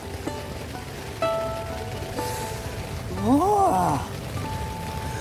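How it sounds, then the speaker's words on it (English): Heavy rain falls steadily on the coast of Italy, a constant wash of noise with a voice calling out briefly over it. "how is it possible that it can rain so much?"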